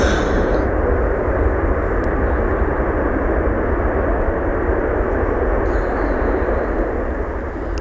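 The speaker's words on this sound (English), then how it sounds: "Good old Jets here having a bit of a reverse thrust there." A Jet2 airliner roars through reverse thrust after touchdown at Manchester Airport, a broad, sustained rumbling jet blast heard from nearby, steady and loud for the whole stretch with no voices.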